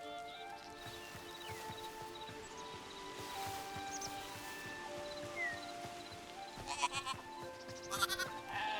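Sheep in the video game Hytale bleating, a few faint calls over a continuous music bed and ambient game sounds, with light footstep-like clatter building toward the end.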